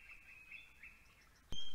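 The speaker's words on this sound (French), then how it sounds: "les oiseaux se remettent à chanter" Springtime birdsong in a mountain setting: a few thin, high chirps and tweets drift in from a distance over a quiet background, then a sharp, louder burst near the end.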